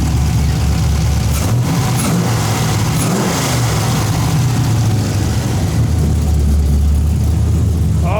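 A Mazda RX7 FC rotary engine on a new setup runs loud and close, with a rough, lumpy low rumble that is steady throughout and carries some rev changes, and no one speaks.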